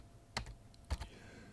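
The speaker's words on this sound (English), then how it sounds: "you go to your terminal and type in sudo" A few quiet keystrokes on a computer keyboard, two or three close clicks spaced unevenly in a short burst of typing at a terminal.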